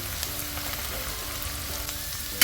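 Broccoli and vegetables sautéing in a pan, a soft, even crackle and sizzle close by with a sharper clatter at the very end.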